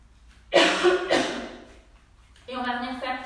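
Coughing during a lion's breath yoga exercise, a couple of loud close harsh bursts near the start and another raspy burst near the end, with a quiet pause between.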